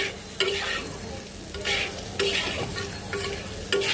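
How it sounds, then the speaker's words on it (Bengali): A spoon stirs hilsa fish curry with potato and cut eggplant in a pan, giving repeated scraping strokes every second or so over a steady background sizzle, with no talk. "বেগুনটাকে সুন্দর করে মিক্সড করে দিলাম।"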